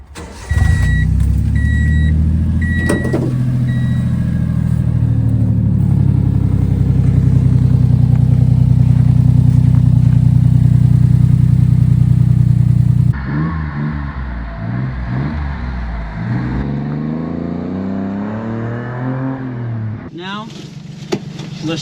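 A Honda Acty kei truck's small engine catches and settles into a steady, close idle that runs loud and even for several seconds, then quiets as voices and shifting sounds take over near the end.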